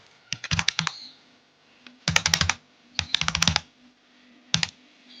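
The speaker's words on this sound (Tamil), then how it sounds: "இது மாதிரியே நீங்கள் உங்கள் பிசிஆர் லேப்டாப்பில் நீங்கள் கேன்வாவை யூஸ் பண்ணீங்கன்னா இது மாதிரி நீங்கள் டைப் பண்ணிக்கலாம்" Typing on a laptop or PC keyboard, heard as four bursts of rapid key clicks separated by short pauses, close and clear with no talking.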